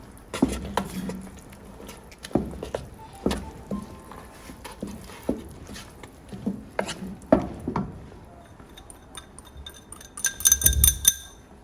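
Mustard greens being stirred with maize flour in a pot, with irregular clinks, scrapes and taps of a spoon against the vessel and soft stirring rustle, brief faint voice sounds.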